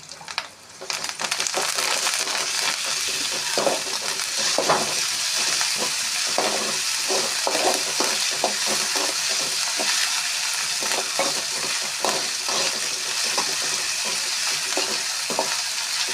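Ginger garlic paste frying in a pan for a natural mushroom curry makes a loud, continuous sizzle, broken by frequent scraping stir strokes, close up with no speech.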